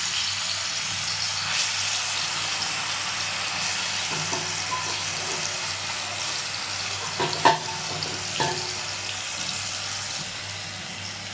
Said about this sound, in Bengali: তো বন্ধুরা চিকেনটা আমি ভালো করে ভেজে নেবো।